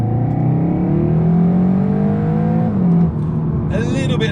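A Seat Leon Cupra R tuned by ABT to 350 bhp, with a DSG gearbox, accelerates at full-throttle kickdown, the engine drone rising steadily and loudly in pitch before a shift, heard from inside the cabin.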